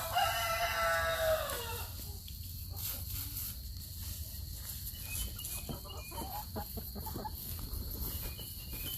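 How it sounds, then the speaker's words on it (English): Chickens in a backyard garden cluck and squawk with loud agitated calls at first, then settle into scattered nearby clucking over a steady outdoor background. "That chicken jumped on Rumple's back."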